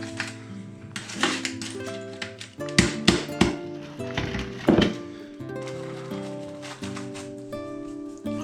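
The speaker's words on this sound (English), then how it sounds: "Yeah, the meat tenderizer hammer." A meat tenderizer hammer pounds and cracks sheets of old-fashioned holiday hard rock candy, a series of sharp, irregular knocks and clatters close by, with tonal ringing between hits.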